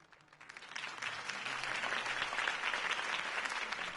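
A crowd in a video game applauds, the clapping swelling quickly and holding as a dense, steady patter, heard at a slight distance.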